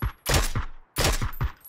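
An SKS rifle in the PUBG video game fires two loud, close volleys of rapid shots, each a quick run of three or four cracks, separated by a short silence.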